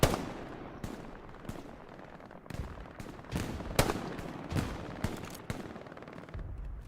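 Flanking gunfire in Hell Let Loose, sharp rifle and machine-gun shots cracking irregularly, some distant and some closer, scattered across a tense battlefield ambience with no talking.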